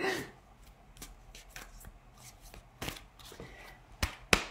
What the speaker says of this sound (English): It's harder to shuffle with a mega deck.